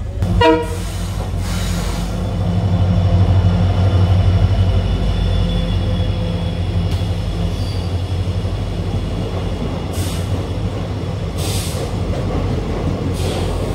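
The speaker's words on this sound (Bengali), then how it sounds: "আমাদের ট্রেন তার নিজের সময় থেকে অনেকটাই আগে পৌঁছে গেছে শিলিগুড়ি জাংশনে" The 13150 Kanchankanya Express pulls into Siliguri Junction with a steady loud rumble of rolling coaches, a brief horn toot at the start and clattering wheel thumps throughout.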